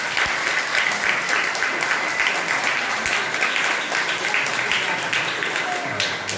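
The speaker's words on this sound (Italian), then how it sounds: "Forza ragazzi, fate un bel applauso" Audience applause at a Parma Lands event in Sorbolo Mezzani, dense and steady for the whole stretch, with murmured voices underneath.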